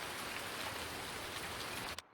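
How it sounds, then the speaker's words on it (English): Heavy rain in Farming Simulator 2019, a dense, steady hiss of downpour that cuts off abruptly near the end, with no talk. "Gee, that rain is really coming down hard."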